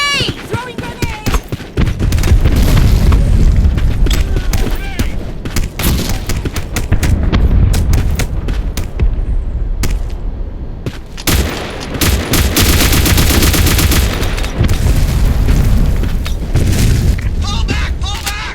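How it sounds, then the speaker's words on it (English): Grenade blasts and sustained automatic gunfire in the online shooter Black Squad, loud dense booms and rapid bursts filling the whole stretch, with shouted voice callouts mixed in. "Grenade! Throwing grenade!"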